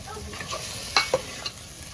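Steady sizzling of shrimp frying in a pot with a few clinks and scrapes of a stirring spoon, moderately close.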